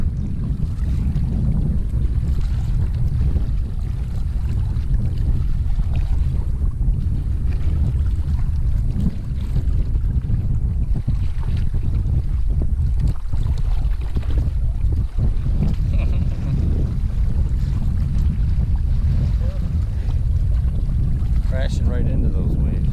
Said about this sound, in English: Crashing right into those waves.